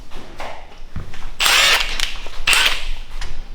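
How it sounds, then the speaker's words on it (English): An impact gun hammers at a BMW N47 engine balance shaft to push it off its tapered gear, firing in two short loud bursts of rattling impacts with mechanical clatter between them, close up and without talk. "I'm going to use the impact gun to do this"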